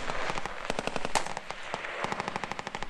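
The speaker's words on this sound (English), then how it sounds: "they would shoot at the buckets and barrels and glow sticks and dynamite and stuff that was already out there placed to be shot at" Rapid machine gun fire rattles in dense, steady bursts at a night shoot at Big Sandy, with sharp repeated cracks and slight echo from a distance.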